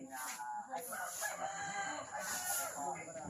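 A large, plump rooster crows on a hilltop farm, two long cock-a-doodle-doo calls that ring out close and clear over a quiet background.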